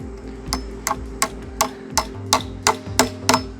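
A hammer drives 1.5-inch galvanized nails to fasten deck beams to a post: about nine sharp, ringing strikes land in a steady rhythm roughly every half second, close and loud, over a low background hum.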